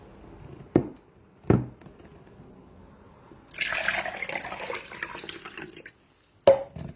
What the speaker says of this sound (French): Si je mets de l'eau,